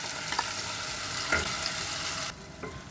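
Coconut paste with onion and curry leaves is stirred and fried in a pan, making a close, continuous sizzle with a few soft scrapes. The sizzle drops sharply near the end.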